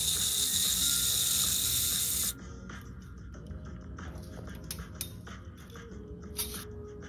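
Makita and Ryobi impact drivers run side by side, first as a loud, dense high-pitched whir and rattle, then dropping to quieter ratcheting clicks and mechanical chatter.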